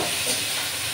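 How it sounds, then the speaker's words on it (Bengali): Onion and garlic paste frying with cumin in hot oil makes a brief, dense, even hissing sizzle. It is close and steady, with no voices. "পেঁয়াজ বাটা রসুন বাটাটা ভালো করে ওর মধ্যে দিলাম"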